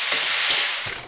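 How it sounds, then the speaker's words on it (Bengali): Aubergine and potato with slit green chillies, turmeric and salt frying in a pan, a loud continuous hiss of sizzling oil with soft stirring scrapes close by. "তারপর একটু নাড়াচাড়া করে নিব।"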